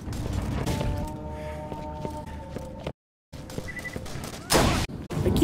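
Gunfire from a gun in Borderlands, several close shots and thumps over game ambience and a tonal hum, with a sudden brief dropout and a loud burst near the end.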